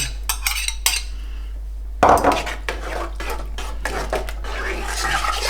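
A spoon scrapes and clinks against a metal pot of adjika with garlic and paprika in repeated stirring strokes, close and fairly loud, with a brief louder clatter partway through.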